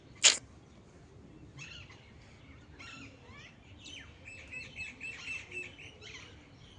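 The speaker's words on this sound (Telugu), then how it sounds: "ఎన్ని పిట్టలు బాధపడతాయంటే చూడండి ఎలా ఎగురుతున్నాయి పిట్టలు" Small birds chirp and twitter in trees, scattered faint calls growing busier toward the end after one sharp loud click at the start, over a low outdoor rumble.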